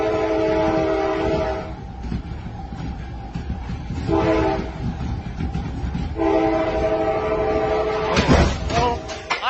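An Amtrak passenger train rushes past with repeated loud horn blasts, rumbling wheels and a rising roar near the end.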